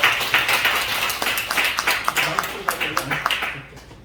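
An audience at an indoor commemorative ceremony and awards event claps in a brief round of applause, irregular sharp claps close by that fade out at the end, with a voice speaking over them.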